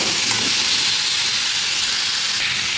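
Papaya and potato pieces frying in a pan, a loud, close and continuous hissing sizzle that stays even throughout, with no one talking.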